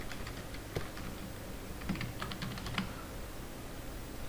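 Computer keyboard typing while entering code in an Excel VBA editor: a few scattered soft key clicks, with a small cluster in the middle, faint over a steady room hiss and with no talking.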